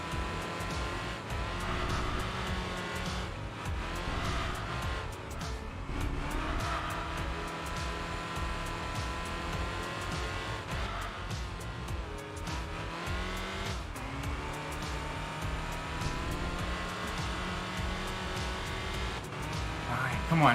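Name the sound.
race car engine in video game Enthusia Professional Racing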